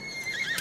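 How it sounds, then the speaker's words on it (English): A horse gives a brief, loud, close neigh, a short rising and wavering whinny that forms a sound effect for a sword-coast fantasy tabletop role-play scene. "he can hear the sound of a horse being abused"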